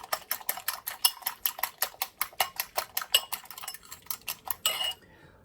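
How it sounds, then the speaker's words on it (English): A utensil scrambles eggs in a cast iron pan with about twenty quick, regular metallic scraping taps close to the listener, then stops abruptly into silence. "I'm just going to scramble this up"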